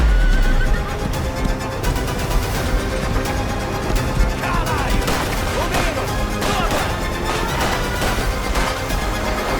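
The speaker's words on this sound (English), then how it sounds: "That's gonna be a cool gameplay, horseback riding." In the Mafia: The Old Country video game, a horse neighs loudly and hooves clatter during horseback riding, mixed with game effects and bursts of gunfire.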